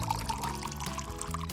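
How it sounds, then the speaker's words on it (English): Glass cleaner pours from a container into a plastic spray bottle, a quiet liquid glug and trickle running steadily throughout with no talk. "Pour glass cleaner into the bottle."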